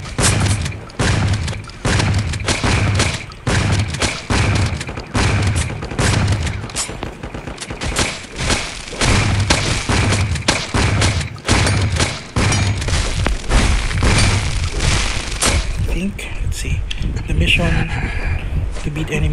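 Gunfire in the mobile video game LifeAfter during a Nancy City PvP match, a loud, continuous series of rapid shots and thumping booms that runs almost the whole way, with game sound and talk mixed in.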